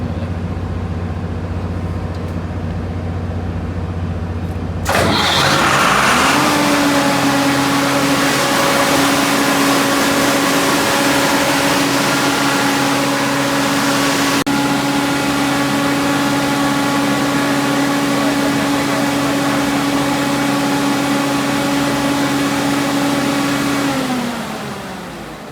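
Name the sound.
ship's emergency diesel generator starting and running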